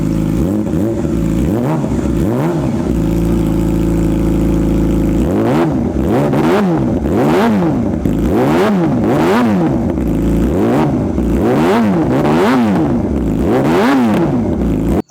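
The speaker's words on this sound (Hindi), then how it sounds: "یہ دیکھا آپ نے ریویو اور ساؤنڈ ٹیسٹ اس R6 موٹو جی پی ایڈیشن کا" A 2012 Yamaha R6 MotoGP edition sport bike revs hard through its exhaust, a steady idle giving way to repeated sharp throttle blips that rise and fall in quick rhythm, loud and close with no talk.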